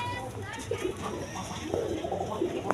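Pigeons kept for sale coo softly in a loft, low repeated calls sounding close by amid background chatter.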